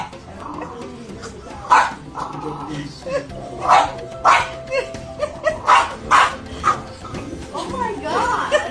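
A dog barks in a series of sharp, loud yaps with short whimpers between, close to the microphone, while people talk and laugh in the background.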